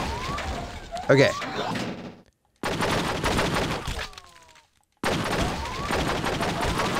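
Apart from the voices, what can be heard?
gunfire in video game True Crime: Streets of LA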